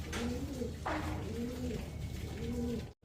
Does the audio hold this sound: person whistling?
no